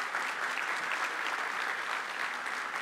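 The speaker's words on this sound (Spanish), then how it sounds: "Y pedimos otro aplauso para él." Audience at the opening of a wholesale trade fair expo breaks into steady, sustained clapping, a dense wash of many hands at moderate distance lasting the whole few seconds.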